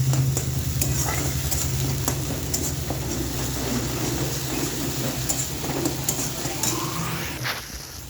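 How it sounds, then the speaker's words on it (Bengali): Ginger and green chili paste frying in oil in a pan, a steady close sizzle with scraping stirs and sharp clicks of a utensil against the metal, plus a low background hum. "ভালো করে এটা ভাজা ভাজা করে নেব।"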